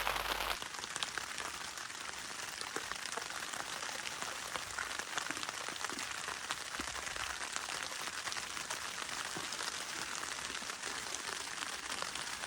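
Rain falls steadily on a Luxe Outdoor Mini Peak II tent, a dense continuous patter of drops on the fabric, heard up close with no voices throughout.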